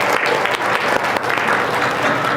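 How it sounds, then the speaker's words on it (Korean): Enthusiastic applause from a church congregation fills the room, a dense, continuous wash of many clapping hands at close range, with no voices standing out. "이곳에 불러주신 하나님께 영광의 박수 올려드리겠습니다."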